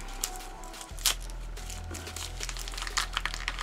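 Adhesive tape peels and crinkles off a bottle of rose water lotion, a few close crackling tears and rustles, the loudest burst near the start, with no talking.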